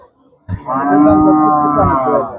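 A black Sahiwal cow at a busy cattle market gives one loud, close, drawn-out moo lasting about two seconds.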